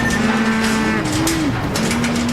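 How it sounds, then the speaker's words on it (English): Cattle moo loudly and close by from cattle trucks pulling them out of a tunnel, one sustained bellow after another over a steady engine drone. "I got 2 cattle trucks to go get the cattle out of the tunnel."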